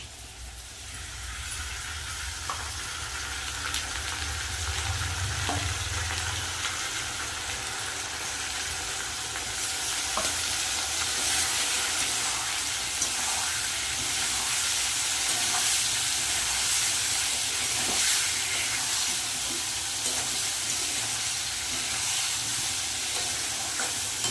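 Potato and papaya fry with green chili, tomato, ginger paste, salt, turmeric and cumin powder in a pan, a steady hissing sizzle that swells louder partway through, with occasional light stirring clicks.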